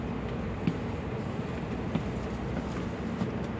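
Interior of a Japanese train in Kyoto: a steady low rumble and hum of the moving carriage with faint rhythmic track clicks, no talking.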